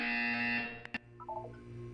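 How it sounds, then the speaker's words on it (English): A loud electronic buzzer in the video game Portal 2 sounds once, then cuts off, followed by a few short, quieter electronic tones over a low background hum. "You will hear a buzzer."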